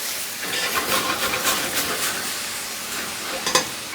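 Beef cubes searing for a brief moment in a pan while being stirred give a steady, bright sizzle with soft scraping, and a short clatter near the end.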